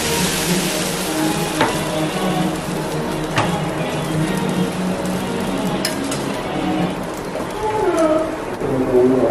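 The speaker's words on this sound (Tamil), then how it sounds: "தோசை ஊற்ற ஆரம்பிக்கும்." Dosa batter sizzles on a hot pan after a mustard seed and curry leaf tempering in oil, a steady close frying hiss with soft scraping and clinks, no talk.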